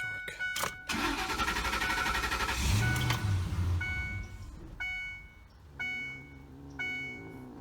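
A 2006 Ford F150 pickup with a 5.4L Triton V8 and newly fitted K&N cold air intake cranks without catching, with repeated bursts of starter whir and chiming warning tones between attempts, close and fairly loud.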